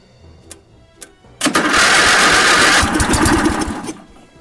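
A propane-fuelled lawn mower engine, started by arcing the solenoid, cranks and catches after two faint clicks, then runs loud and steady for a few seconds before easing off, with no talking.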